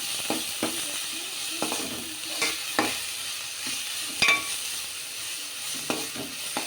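Paneer masala is stirred in a frying pan, a soft sizzle running beneath irregular scraping and tapping strokes of the spoon on the metal, close and fairly quiet, with no talking.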